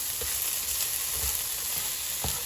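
Oyster mushrooms fry in a pan with a steady crackling sizzle, close and continuous, with a few soft taps as they are moved.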